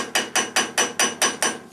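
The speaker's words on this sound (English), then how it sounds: "Just a little easy percussion with the hammer" Seven evenly spaced, sharp metallic taps of a claw hammer on a steering part of a 1967 Triumph GT6, loud and close in a quick steady rhythm.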